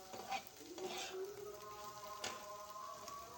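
Okra fries in a pan while being stirred and turned, giving a faint, steady sizzle broken by soft scraping and stirring sounds, with no talking.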